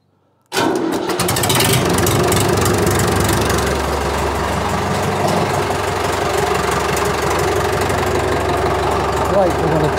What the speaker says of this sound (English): let's get the tractor started